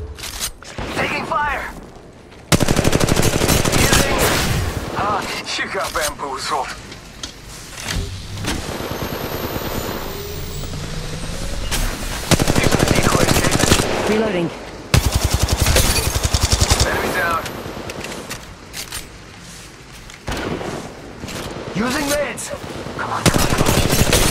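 Rapid bursts of automatic gunfire from the mobile shooter Apex Legends Mobile, played on an iPad, crackle in repeated volleys with pauses between, loud and close, while a character voice and game effects sound in between.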